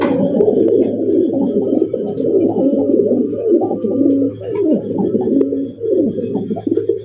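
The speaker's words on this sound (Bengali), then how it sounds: "প্রত্যেকটা প্রায় কবুতরই মনে করেন যে ডাকের দিক দিয়ে সেরা" A loft of Bombay pigeons coos in a thick, overlapping chorus, with many birds' low rolling calls layered continuously and close by, alongside occasional sharper bird notes, with no voices.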